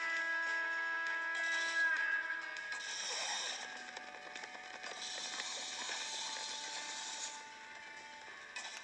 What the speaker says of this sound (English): Cool, nice long grind.